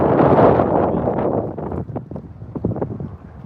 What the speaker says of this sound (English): it's really windy out here today.